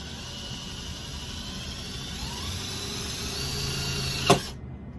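A power drill drives screws, whirring steadily for several seconds at close range, ending in a sharp click before cutting off.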